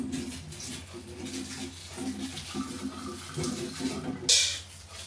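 Cloves being rinsed under running water in a home kitchen, a low steady trickle and splash with faint handling noises and a brief louder splash near the end.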